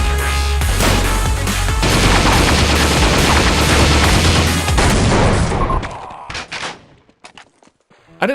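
Rapid gunfire from a sniper rifle in the video game Team Fortress Classic, loud and dense with overlapping shots and booms for about five seconds, then tapering into a few scattered, fainter sounds.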